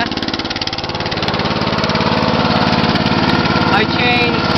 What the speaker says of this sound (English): I replaced it with a 13 horsepower Briggs & Stratton Intech motor.